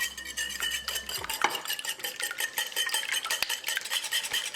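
Two eggs are beaten with a whisk in a bowl for egg wash, giving rapid rhythmic clicking and tapping against the sides that continues throughout the clip, close and fairly loud with no talk.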